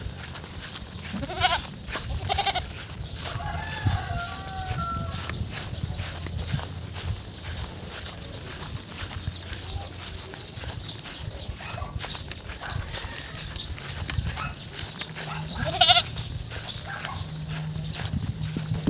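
Goats grazing outdoors on a sunny day, with a few scattered bleats and calls over steady rustling, movement and low background noise; no speech.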